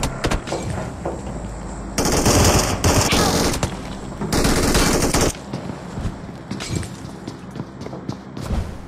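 Video game gunfire crackles in rapid automatic bursts during a ranked match, with two loud, sustained volleys and scattered lighter shots between them, close and harsh.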